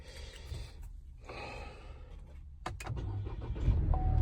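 A 2021 Chevrolet Trailblazer with 25,000 miles and a check engine light cranks and starts nearby, a short starter whir followed by the engine catching and settling into a rising idle, with some breathing noises and no talk.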